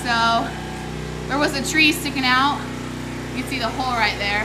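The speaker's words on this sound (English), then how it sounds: "we have a generator. So you can probably hear the noise in the background." A generator hums steadily in the background in a storm-damaged house after Hurricane Michael, a constant low drone running under a person talking throughout.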